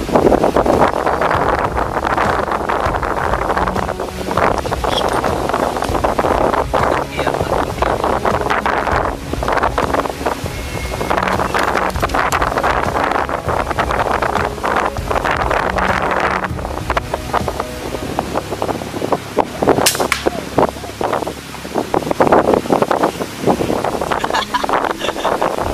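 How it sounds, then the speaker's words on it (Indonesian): Strong wind buffets the microphone outdoors during a turtle dove hunt, a loud continuous roaring rush with gusty surges throughout and no voices. "Anginnya kenceng banget guys, sampai geser 4 muat tadi."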